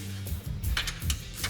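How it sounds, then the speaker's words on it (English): A steel punch tapping a stuck bolt out of a snow plow mount on a Polaris General XP 1000, several sharp metallic clinks in quick irregular succession, close and fairly loud over an idling engine hum. "Sometimes it's hard to get the bolt out, so just take a punch, tap it out."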